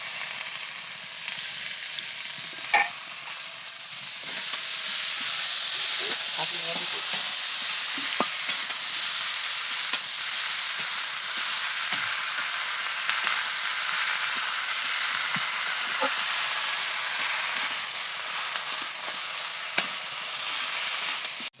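Boiled spinach tipped into a pan of crab, a spinach curry with freshly caught crab, sets off a loud, steady sizzle that hisses on without pause, with faint stirring clicks and scrapes underneath.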